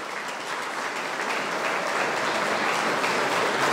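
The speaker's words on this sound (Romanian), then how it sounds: "vreau să-i aplaudăm tare" Wedding guests applaud the bride and groom, Miruna and Bogdan, a dense continuous clapping that swells slightly toward the end, filling the hall with no speech on top.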